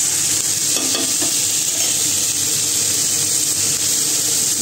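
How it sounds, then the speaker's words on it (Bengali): Vegetables fry in a pan in a home kitchen with a steady, loud, close sizzle that holds without a break and carries occasional faint stirring clinks. "আর এবারে একটু ভেজে নেবো এগুলো।"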